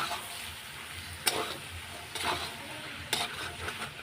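Cane shoot greens are stirred and pressed in a pan with a spatula, three distinct scraping strokes over a faint, steady sizzle.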